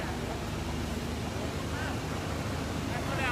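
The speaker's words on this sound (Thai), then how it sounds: "เพราะว่าตอนนี้น้ำไหลเชี่ยวมากนะครับ ไหลเชี่ยวมาก" Rushing floodwater pours through a breached levee along the Chi River beside flooded rice paddies, a steady broadband roar with some wind buffeting, continuous under a man's speech.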